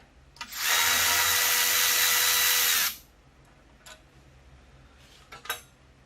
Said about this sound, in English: Get the power tool up on it because I don't want to